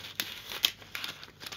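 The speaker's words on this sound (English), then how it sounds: "I'm going to roll it into my special pen tool, making a little tube, and I'll tape it" Plastic tape is torn and wrapped around a rolled plastic tube for a homemade pen tool in an acrylic pouring craft, giving quiet crinkling and short tearing rasps close by.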